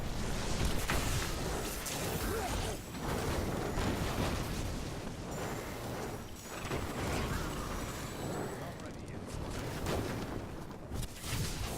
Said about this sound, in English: then it kills everything else by exploding